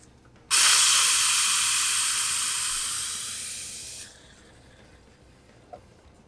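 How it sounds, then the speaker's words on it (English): A loud, close, steady hiss of air pressure from an MV7840 pressure brake bleeder charging brake fluid starts abruptly, fades slightly over a few seconds, then cuts off into quiet. "Now we've got a hiss going there."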